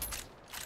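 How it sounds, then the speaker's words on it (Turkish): Weapon reload in the video game Battle Teams 2, a brief mechanical clatter of metal parts sliding and clicking into place, short and fairly close. "Mermi bitti. Dolduruyorum."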